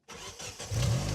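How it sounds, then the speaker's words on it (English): A car engine rumbles low and rough, revving in short bursts before swelling into a louder, throaty roar, like a leaky, blown exhaust. "I think it's got a blown exhaust"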